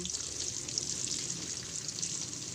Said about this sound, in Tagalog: Prituhin muna natin ang tokwa, mga kakusin